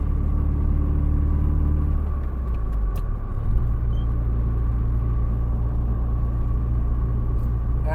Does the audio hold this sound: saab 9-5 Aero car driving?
yes